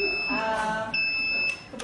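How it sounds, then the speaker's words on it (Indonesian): A buzzer on a student-built gas leak detector sounds in continuous loud, high electronic beeping tones. Someone talks over it nearby, and the tone drops out briefly partway through. "maknanya sekarang ni buzzer tengah mengesan"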